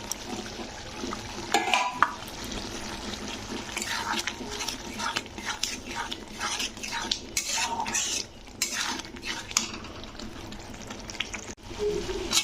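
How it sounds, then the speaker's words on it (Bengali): Green peas being stirred and sautéed in a tomato masala for a matar paneer dish, with repeated scraping and clinking of a spoon against the pan over a steady low cooking hiss, close and continuous. "এবারে আমি মটরশুঁটিটাকে এর মধ্যে কষে নেবো"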